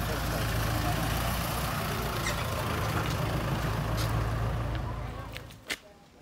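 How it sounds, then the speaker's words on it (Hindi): A bus engine climbs uphill on a mountain road near a hillside parking area, a heavy steady rumble that holds loud for about five seconds and then fades as it moves away, with a short air-brake-like burst near the end. "ऐसे तरीके का बसेस भी नीचे से आते हैं ऊपर।"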